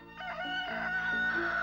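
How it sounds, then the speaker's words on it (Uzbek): A village rooster gives one loud, close crow, a rising call that holds a long drawn-out note before ending, heard alone in the early morning. "Xo'rozlar ham bugun ancha barvaqt turishdi."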